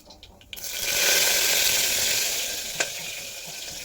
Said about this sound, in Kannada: ಕರಿಬೇವು ಇದೆ, ಕರಿಬೇವು ಎಲೆನ ಹಾಕೋಣ.